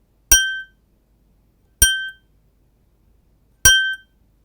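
Three separate bright metallic autoharp strikes, each ringing briefly before being damped, spaced evenly with silence between them.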